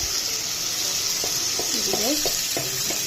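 Turmeric sizzles in a frying pan while it is stirred, a steady hiss of frying with a few scraping spoon strokes near the end.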